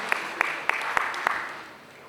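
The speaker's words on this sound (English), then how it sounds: "Can we have a huge round of applause" A short burst of crowd applause with a few sharp claps standing out, fading away toward the end, for panelists at a poultry veterinarians' annual meeting.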